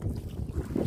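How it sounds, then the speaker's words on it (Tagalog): Strong wind blows on a fishing outing near an island, a loud blustery rush buffeting the microphone in a brief, continuous gust. "lumakas ng hangin"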